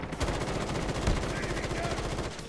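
Sustained automatic fire from the M13 rifle in Call of Duty Mobile, a loud, rapid, steady burst lasting a couple of seconds before cutting off.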